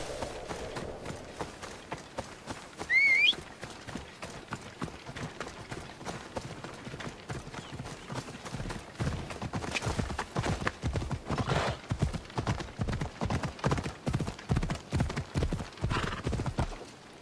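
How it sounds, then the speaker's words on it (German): A horse in Assassin's Creed Odyssey gallops with rapid rhythmic hoofbeats, giving a brief neigh early on, then its clip-clop grows louder and steadier, with occasional faint voices underneath. "Braves Pferdchen"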